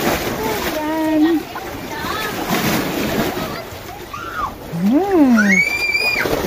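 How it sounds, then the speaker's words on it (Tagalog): Ocean waves wash and splash steadily at a white sand beach in Anda, Bohol, a continuous broad surf rush close by, with excited voices talking and calling over it. "Oh, mga waves, oh. Ang ganda ng waves."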